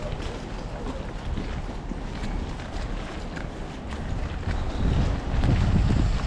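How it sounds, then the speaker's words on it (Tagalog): Wind buffets the microphone outdoors in a Canadian town, a rough broadband roar that swells louder toward the end. "Ayan, hangin."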